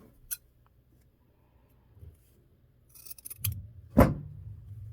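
Scissors snip through a fabric bag piece, a few short crisp cuts and rustles ending in one louder closing snip, close and alone in a quiet room.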